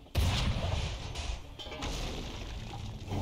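A cannon fires in Assassin's Creed III, one heavy booming blast at the start that rolls into a long rumbling, crashing tail, loud and close.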